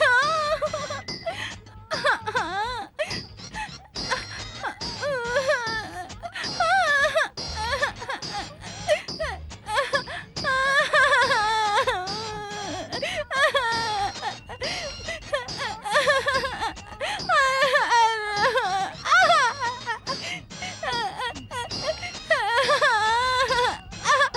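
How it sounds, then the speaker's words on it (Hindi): Wailing, sobbing cries rise and fall continuously over a steady low hum, loud and close, with moaning, whimpering tones throughout. "अंदर संगीत की बजाय रोने की आवाज आ रही है।"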